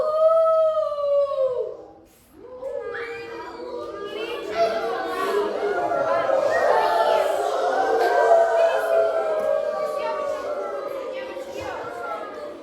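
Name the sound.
voice imitating a wolf howl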